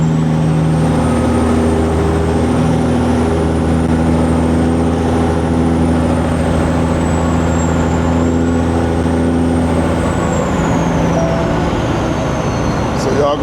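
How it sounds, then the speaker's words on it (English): A loaded semi truck with a Caterpillar 6NZ engine hauling about 44,000 lbs of watermelons drones loudly and steadily, its deep engine hum and rising whine filling the cab throughout. "So y'all gonna hear this truck screaming"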